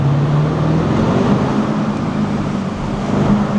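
Lamborghini Urus S engine in Corsa track mode, a steady low rumble with light throttle presses swelling the drone slightly, heard from inside the cabin with no talk.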